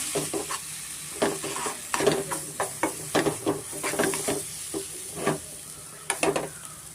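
Rasam premix with salt is stirred in a hot pan, with rapid, repeated scraping strokes of the spoon over a steady sizzle and hiss, close and fairly loud.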